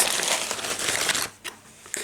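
A packet is pulled out and crinkled, giving a dense burst of crackling plastic rustle for about a second, then a pause and a couple of brief, fainter crinkles, close to the microphone.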